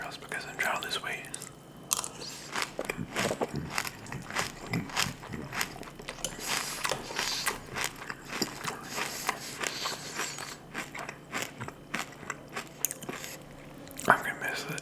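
Leftover sugary breakfast cereal being crunched and chewed close to the mic in a quiet room, a steady run of soft bites and mastication with occasional louder crunches and faint whispering mixed in.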